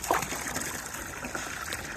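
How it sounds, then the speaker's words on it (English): Water running through a hose into a tank, a steady quiet trickling and gushing with small splashy bursts, close by and without talk. "they have connected it, and now they're filling up the used water"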